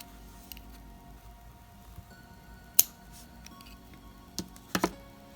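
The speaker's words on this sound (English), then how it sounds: "we can now cut the yarn" Sharp scissors snip through crochet yarn at the end of a beginner pumpkin project, a few brief, crisp close clicks spaced apart over a quiet room background.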